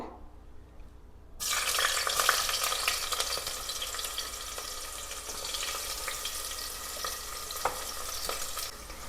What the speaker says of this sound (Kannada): ಎಣ್ಣೆ ಕಾದಿದೆ ಇದಕ್ಕೆ ಇವಾಗ ಫಸ್ಟ್ ಈರುಳ್ಳಿನ ಹಾಕೋಬೇಕು